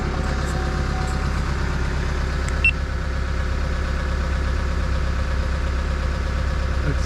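A car engine idles steadily after an EGR repair, a low even rumble with a faint regular knock, a brief click partway through, and no talk.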